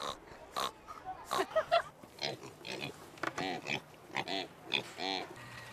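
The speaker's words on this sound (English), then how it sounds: "Because I liked the pigs." Pigs at a county fair grunt and oink in a rapid, irregular run of short calls, close by, with some voices mixed in.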